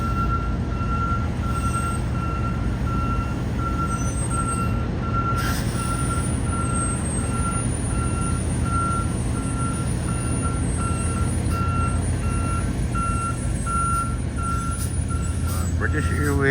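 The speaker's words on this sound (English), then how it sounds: "the truck is returning to its holding position" Airport ground truck reversing back to its holding position on the apron, its reversing alarm beeping in a steady, evenly spaced rhythm over a constant low engine rumble, with someone talking over it.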